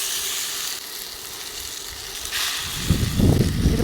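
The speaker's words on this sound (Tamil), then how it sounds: "இதை வந்து நல்லா வறுத்து எடுத்துக்கலாம்" Grated bottle gourd frying in ghee for barfi, a steady close sizzle that grows louder and rougher toward the end as the mixture is stirred in the pan, with no voices.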